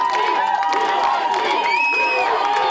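Bowling Green football fans cheer and shout in a stadium during a tense finish against San Diego, a dense, loud, sustained crowd roar with whoops and scattered whistles.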